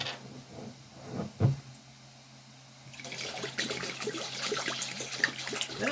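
A 750 ml bottle of vodka poured into a 4-liter jug, starting with a faint trickle and a single thud, then a steady louder gurgling pour for the last few seconds.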